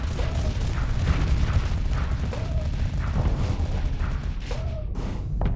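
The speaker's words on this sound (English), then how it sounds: "Then the Gauss cannons are just ripping through" Gauss cannons fire during space combat in the game Starsector, a dense barrage of booming shots and mechanical clatter with recurring whooshes, loud and continuous with no talk.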